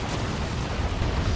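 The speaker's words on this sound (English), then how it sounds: "Grenades going in." Grenade explosions in the Dawn of War 2 strategy game, a short continuous rumbling blast with low boom and broad crackle, loud and close.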